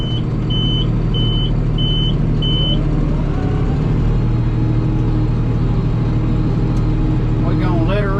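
A tractor runs in full-wheel drive while fertilizing hay fields, its diesel engine droning loudly and steadily close by, with a short series of beeps at the start and a voice speaking over it.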